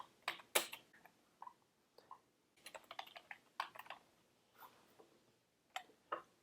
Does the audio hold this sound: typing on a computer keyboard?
yes